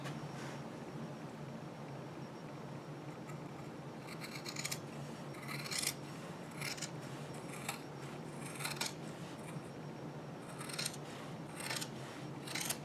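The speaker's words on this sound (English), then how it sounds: "just start to be prepared to cut the fabric" Scissors cutting fabric to hem a pair of pants, a series of crisp snipping bursts in uneven groups over a faint steady hiss, close and quiet, with no speech.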